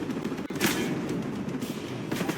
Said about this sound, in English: Okay, that was a sniper.